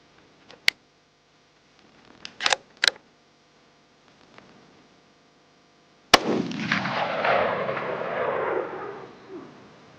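A Ruger American Gen 2 .308 rifle firing Sierra MatchKing match-grade ammunition outdoors, a single loud sharp crack followed by a long fading rumble, preceded by quiet clicks and handling noises.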